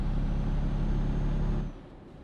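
Steady, loud truck engine drone in Euro Truck Simulator 2, a heavy rumble that holds for under two seconds then drops off sharply to a quieter idle hum, with no talking.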